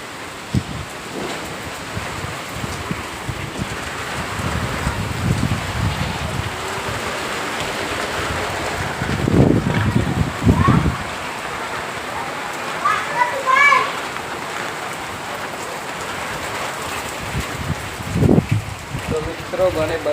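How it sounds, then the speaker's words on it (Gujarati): A windstorm with heavy rain in Limdi village roars as a steady outdoor rush of rain and gusting wind, with louder surges and voices talking over it. "વાવાઝોડું ને વરસાદ ચાલુ થઈ ગયો જોરદાર"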